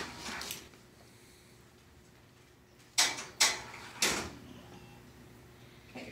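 An X-ray tube and table bucky are lined up for a femur exam. Faint mechanical sliding is followed by three sharp clunks in close succession as the equipment locks into position, with no speech.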